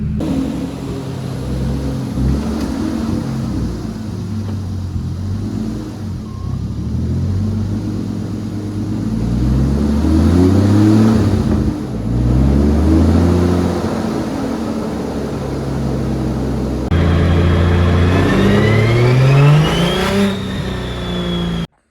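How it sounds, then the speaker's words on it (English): Turbocharged BMW E36 drift car backing out and then driving off, its engine droning loudly with rising and falling revs and whining tones toward the end, close and continuous with no talking. "Now I'm going to back it out and start doing some drivability testing and make sure everything feels okay."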